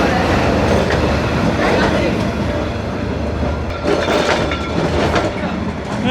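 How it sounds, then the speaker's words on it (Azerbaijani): A train rolls close past on a street in Hanoi, a loud continuous rumble with rattling carriages and clatter, steady throughout with street noise around it. "Qatar keçəndə vəziyyət budur."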